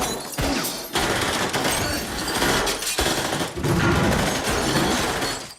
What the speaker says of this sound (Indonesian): dengan cepat Kica masuk menembak Anton hingga aksi baku tembak pun gak bisa dihindarkan